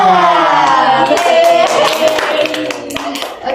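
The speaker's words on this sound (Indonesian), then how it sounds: "Baik, tepuk semangat." A classroom counseling group performs a rhythmic spirit clap, bursts of hand claps under a leader's voice, loud and close, tapering off toward the end.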